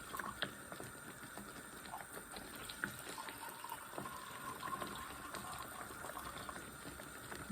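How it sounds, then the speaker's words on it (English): Water pours from a kettle into dye pots, a faint steady trickling and splashing stream that runs continuously at low level with small irregular gurgles, no speech over it. "I'll just grab the kettle and I will pour out a couple of pots of water."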